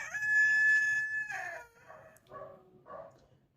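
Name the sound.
rooster crowing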